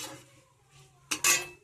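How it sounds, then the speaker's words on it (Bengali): Chilies being stirred and fried in hot oil in a pan while cooking a Bengali pachan, heard as faint utensil scrapes and then two short, louder bursts of sizzling clatter near the end. "একটু নেড়ে চেড়ে ভাজা করে নেবো।"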